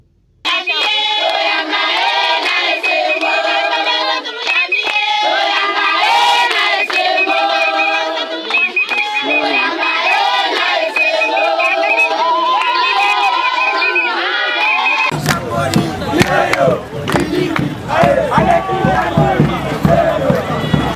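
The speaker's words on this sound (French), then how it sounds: "Une foule immense venu des quatre coins de la Tchangou pour accompagner ses fils du terroir" A huge crowd at a political rally in the Tshangu district, cheering, singing and shouting continuously and loudly throughout, with a denser, rougher surge of crowd noise toward the end.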